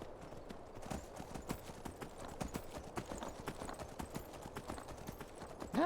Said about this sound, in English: I'm just taking my horse back.